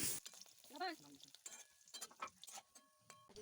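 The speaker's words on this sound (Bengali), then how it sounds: "প্রথমে দেখো ডিমের বড়াগুলোকে মা ভালো করে তেলে ভেজে নিল" Fish-roe fritters frying in oil make a stirring, crackling sound with irregular clatters and scrapes, up close and fairly quiet.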